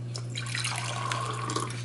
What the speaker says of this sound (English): I'm gonna take a glass and I'm gonna put water in the glass.